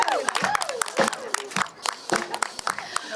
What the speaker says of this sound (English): Let's give all of our speakers a round of applause.